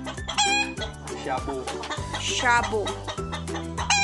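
Bantam chickens on a free-range farm cluck in quick, overlapping bursts close by, with a brief crow-like call among them and a person speaking briefly over the flock.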